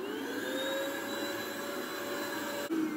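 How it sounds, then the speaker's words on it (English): A vacuum cleaner runs across a soft faux wool shag Moroccan area rug with a cushioned nonstick backing, giving a loud, steady, close whine and drone that continues without talk until a brief dip near the end. "Let's see how it vacuums."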